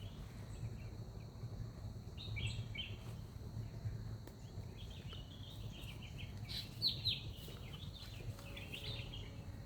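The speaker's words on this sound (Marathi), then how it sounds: "आता इथं पक्षी ओरडायले तिथं एक आता गावामध्ये शहरामध्ये न बघायला मिळणारे पक्षी इथं आहेत" Village birds call from tree branches: faint, scattered chirps and tweets over a low, steady outdoor background hum, with no voices.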